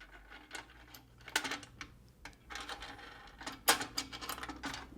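Hex nuts and washers slide and rattle into the T-slots of a Woodpeckers DP-Pro drill press table, giving a run of light metallic clicks and scrapes at close range with no talk.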